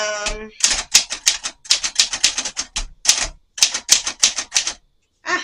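Keys clacking on a Royal manual typewriter, close and loud, in quick irregular bursts of strikes with short pauses between runs and a carriage-like ratchet at the start; no talking.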